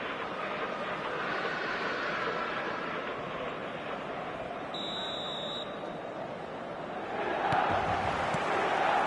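Football stadium crowd in a video game, a broad steady roar from many people that swells louder near the end, with a brief electronic beep in the middle.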